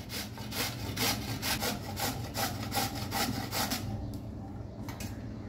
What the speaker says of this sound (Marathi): अशा पद्धतीने सर्व कैरी किसून घ्यायची आहे